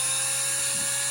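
A power drill spins the differential of a Tamiya Bruiser clone RC truck kit to break it in, giving a steady, continuous high-pitched whine with no talk over it.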